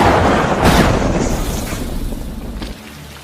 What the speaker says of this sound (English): it was raining heavily and thunder blaring